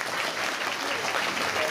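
Audience at the Turtle Talk show in Tokyo DisneySea clapping together in a steady, full round of applause, close and continuous for the whole moment, with faint voices mixed in.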